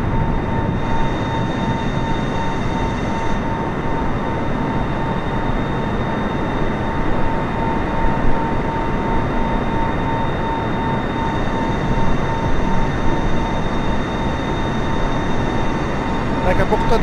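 Airplane flying over open sea during a storm in Microsoft Flight Simulator, a loud constant roar of wind and engine with a faint steady whine on top, unbroken for the whole stretch.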